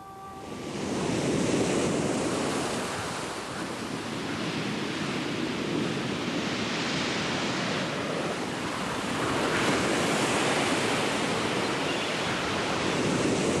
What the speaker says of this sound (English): This is more a wind, this is a gale.